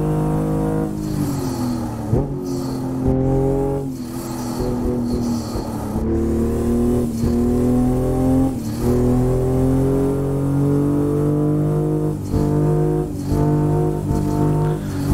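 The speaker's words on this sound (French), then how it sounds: "J'ai le pied sur le frein et l'accélérateur, un peu comme en GT." A BMW engine in a racing video game revs hard and accelerates repeatedly, its pitch climbing and dropping between gear changes. The sound is loud and continuous and is heard alone.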